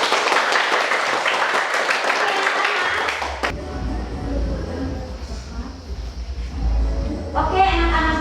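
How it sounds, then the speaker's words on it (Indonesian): Classroom applause for student groups after a poster presentation, a burst of clapping from children that stops abruptly around three seconds, followed by a quieter stretch with low rumble and faint background activity, clapping briefly resuming at the end. "Tepuk tangan untuk semua kelompok."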